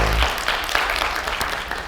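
Audience applause greets a speaker's introduction at a talk event, a dense steady wash of clapping lasting under two seconds at moderate loudness.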